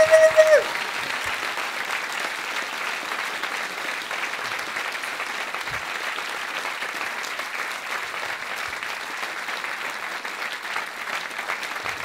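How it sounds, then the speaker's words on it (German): Stand-up comedy audience giving long, sustained applause, a broad steady roar of clapping that holds evenly for about twelve seconds after a brief tonal sound at the start. "einen großen Applaus für all die Menschen, die heute Abend die fantastisch gemacht haben"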